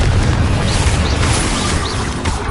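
Confringo spell explosion in the video game Hogwarts Legacy: a dense, loud burst of noisy boom and crackle that runs the whole span, with small whooshing swells over it.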